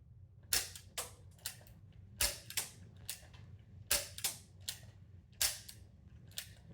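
A realistic Nerf-style toy revolver fires small darts indoors, about a dozen sharp, loud cracks spaced roughly half a second apart, with no one speaking.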